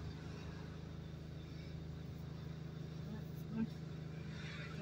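A car rolls through a multi-level car park in Sydney with a low, steady engine hum and faint road rumble, quiet and even throughout.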